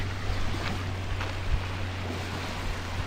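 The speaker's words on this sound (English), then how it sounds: "listen to the waves." Ocean waves wash onto a small beach next to a campground, heard as a steady broadband wash with constant wind rumble across the microphone and no clear individual breakers.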